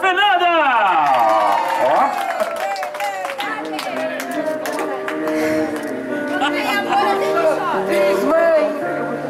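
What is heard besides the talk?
crowd applauding at a birthday party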